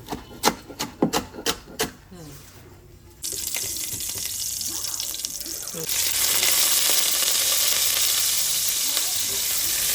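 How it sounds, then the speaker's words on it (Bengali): Shrimp hit a pan of red amaranth and bottle gourd leaves, a burst of crackling sizzle that swells louder and steadies into a continuous close hiss after a few sharp clicks and taps. "আজ চিংড়ি দিয়ে শাক রান্না করবো"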